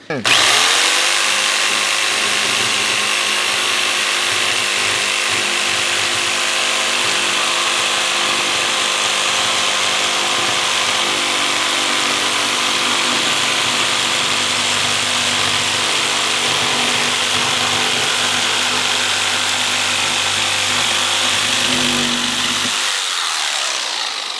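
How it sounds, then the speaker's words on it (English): A jigsaw cuts an arch into a wooden fence section, a loud continuous buzzing whine running steadily for over twenty seconds before cutting off. "use a jigsaw to cut out that arch"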